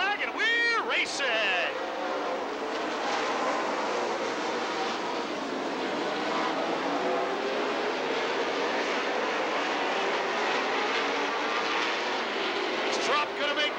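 Mars Series race cars roaring off at the green flag in a 100-lap race, a loud continuous engine roar with doppler sweeps of cars passing near, under a race announcer's steady commentary.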